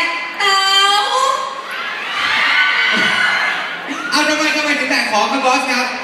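A crowd of fans screams at a Thai press event, with loud, high, excited shrieks and cheers rising and falling in waves, mixed with voices.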